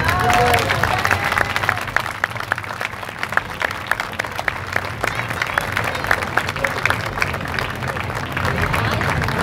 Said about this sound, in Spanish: Quiero mandar un aplauso fuerte a Ismael Flores hasta el cielo.